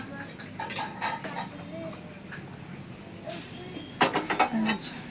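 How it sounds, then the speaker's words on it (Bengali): Maggi noodles tipped into a metal pan, with clinking and scraping of utensils against the pan, close and clattery, including a louder burst of clanks near the end under steady background hum. "এটার মধ্যে এখন ম্যাগিটা ঢেলে দেবো"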